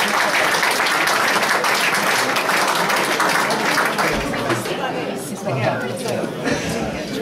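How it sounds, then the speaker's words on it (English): Loud, continuous applause and clapping from an audience at a football supporters' trust player-of-the-year awards night, with crowd chatter and a little laughter mixed in, the clapping thinning slightly toward the end. "Give out a big round of applause"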